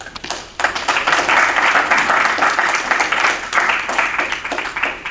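A Toastmasters club audience claps for a speaker leaving the lectern: a brief lull, then dense, loud applause from many hands that carries steadily to the end.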